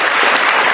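Fuzzy, distorted applause sound effect played over a radio show call, a dense burst of crackling clapping noise lasting under a second, loud and alone.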